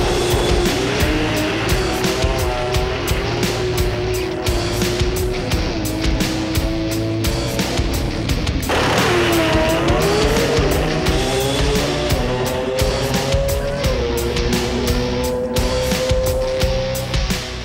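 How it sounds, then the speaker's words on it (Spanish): Drag racing cars roar down the track with loud sustained engine noise, rising revs and tire squeal, a second wave of engine sound surging in midway, heavy and continuous throughout. "No se mueva de ahí que usted va a ver estos carros cómo vuelan."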